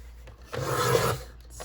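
A blade rasps through material being cut for a handmade journal cover in one steady, scratchy stroke lasting about half a second, close and fairly soft, with quiet around it.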